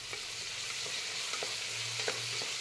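Mint leaves and onion sautéing in a pan give a steady bright sizzle, with a few soft stirring scrapes and clicks, close and continuous.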